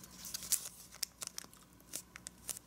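Origami paper being folded and creased, soft crinkles and light scratchy rustles in scattered brief bursts, quiet and close with no voices.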